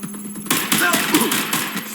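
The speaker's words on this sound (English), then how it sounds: "Suspect has opened fire." Rapid bursts of gunfire in Watch Dogs Legion, sharp and loud, firing repeatedly over a couple of seconds with a steady background hum.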